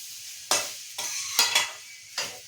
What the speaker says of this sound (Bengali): তার জন্য আর নাড়িয়ে নিচ্ছি ভালো করে